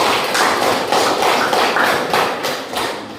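A classroom of students claps for a group, a dense, loud burst of hand claps that swells in waves and fades slightly toward the end, with no voices over it.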